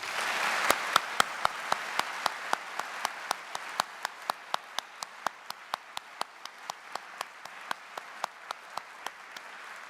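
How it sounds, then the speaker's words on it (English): At a high school Veterans Day ceremony, the audience applauds Navy veterans. A soft bed of crowd clapping runs under a string of sharp, evenly spaced claps that keep a steady rhythm for about ten seconds. "Let's give them a big round of applause."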